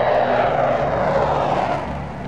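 A shuttle training airplane flying at altitude, a loud continuous engine roar that fades slightly toward the end, with no talk.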